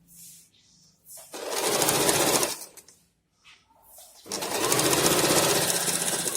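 A sewing machine stitches trouser fabric in two loud, rapid bursts of whirring, separated by a pause with faint handling clicks.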